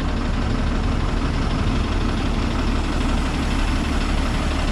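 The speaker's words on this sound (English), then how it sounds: "Their bus says hybrid electric on it, but that's a diesel engine." Diesel engine of a bus labeled hybrid electric, idling with a steady low rumble and faint knocking, constant and fairly close with no talk.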